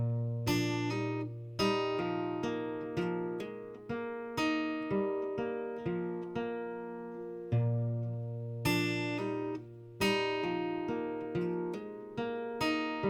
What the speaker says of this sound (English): That's the whole finger picking part. It never changes.